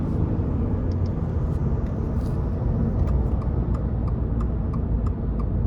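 Engine and road noise from inside a 2024 Subaru Impreza RS with a CVT as it accelerates in sport mode, a steady low rumble with faint ticking on top and no talking.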